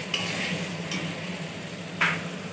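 Spices frying down in a pan for a meat curry, giving a steady close hiss of sizzling oil with three brief scraping strokes of stirring, the last one loudest.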